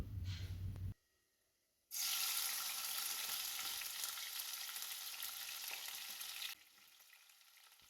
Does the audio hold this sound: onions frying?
yes